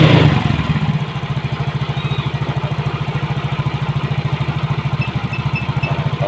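A Honda Soul GT motorcycle with hard starting and leaking compression runs loud at first, then settles into a fast, even, pulsing idle with a light mechanical clatter, close up.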